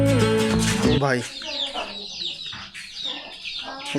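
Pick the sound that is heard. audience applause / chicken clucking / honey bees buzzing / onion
chicken clucking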